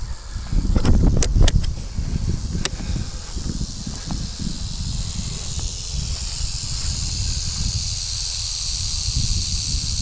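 A snake hisses in a sustained breathy stream outdoors, close and steady, with a few rustling knocks near the start.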